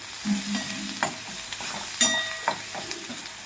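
Onions and a pinch of turmeric powder are stirred in a pan, the spoon scraping in several distinct strokes over a low background sizzle, close by and with no talking.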